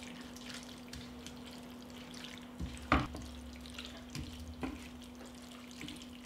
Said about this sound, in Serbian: pa ću sve promešati